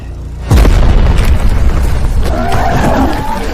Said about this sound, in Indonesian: mendengar suara ledakan tersebut dari kejauhan